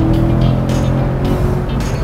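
Chevrolet Corvette C7 Grand Sport V8 exhaust under acceleration, a loud close engine drone rising with throttle, accompanied by road and wind roar inside the car.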